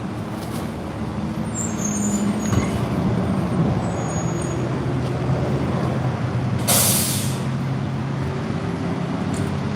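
City bus engine drones steadily inside the vehicle, with a sharp hiss of air brakes releasing partway through amid continuous road noise.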